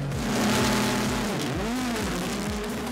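Rallycross race cars at a World RX event in Latvia accelerate hard off the start line, a loud continuous engine roar with rising and falling revs as the pack launches together, no talk.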